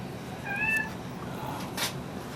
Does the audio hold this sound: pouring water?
no